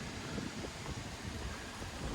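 Steady, strong wind buffeting outdoors at a campground, a continuous broadband rush with low rumbling gusts and no pauses.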